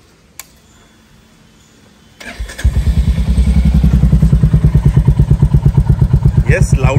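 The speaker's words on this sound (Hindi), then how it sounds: "अब इसका एग्जॉस्ट नोट सुनते हैं" After a quiet lead-in with a single click, a Royal Enfield Hunter 350 with a Roar aftermarket exhaust fires up and settles into a loud, close, rhythmic thumping idle.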